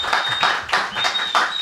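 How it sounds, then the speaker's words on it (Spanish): A studio audience applauds a visiting debutant film director at a Dominican sci-fi film screening, with a brief, loud burst of clapping that swells and fades in waves. "Un aplauso."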